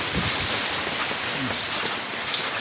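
Heavy rain from Typhoon Uwan pours down nearby in a dense, even hiss of drops beating on surfaces, loud and unbroken throughout the short stretch.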